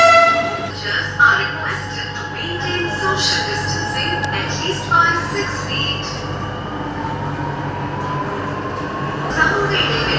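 A Chennai Metro train runs toward Ashok Nagar station, its steady rumble heard from onboard along with a rising motor whine and a few brief chimes, while someone narrates over it.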